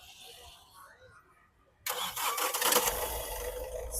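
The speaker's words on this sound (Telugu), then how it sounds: "సింగిల్ సెల్ఫ్లో బండి స్టార్ట్ అవుతుంది సార్" A 2022 Mahindra XUV300 W6 SUV engine starts on a single crank, a sudden loud catch after quiet then a steady close idle.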